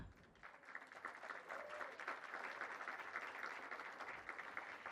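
Sustained applause from a large audience at a Rose Queen announcement ceremony, steady and fairly distant, welcoming a candidate for the 107th Rose Queen.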